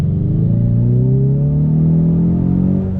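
A Ford Mustang EcoBoost with the high performance pack revs up under heavy throttle, its pitch climbing steadily in a loud, close, continuous roar.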